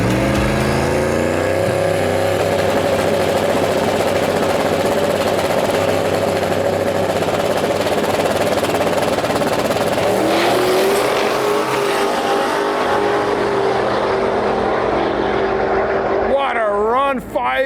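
Turbo LS Datsun and Pro Street drag cars race side by side, engines roaring loudly and continuously at high revs, with a rising pitch late in the run as they accelerate hard down the strip; an announcer talks over the noise.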